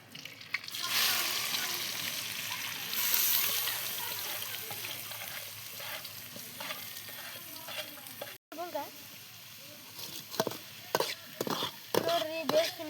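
Sliced onion fries and sizzles in a hot pan for egg rice, a steady loud crackle throughout with occasional stirring scrapes and a voice speaking over it near the end.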